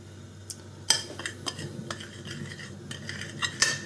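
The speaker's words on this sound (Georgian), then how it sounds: "შეგვიძლია ეს ამოურიოთ, სანამ იქით დუღილის პროცესი დაიწყება, კარგად გავაზაოთ ეს მასა" A spoon stirs a chicken-of-the-woods mushroom mixture in a pot, giving scattered scrapes and sharp clinks against the metal, fairly close, with quiet gaps between strokes.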